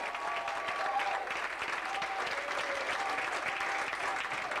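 Audience at a comedy club applauding a comedian as he is introduced, with steady, dense clapping that fills the room throughout at moderate distance.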